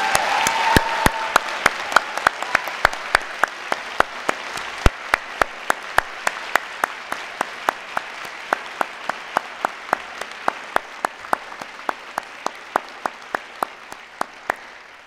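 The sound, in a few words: applause for new doctors at graduation ceremony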